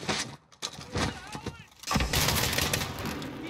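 Gunfire in the Modern Warfare campaign comes as a few loud, sharp shots and bursts under tense in-game voices, followed by a sustained noisy rumble of combat.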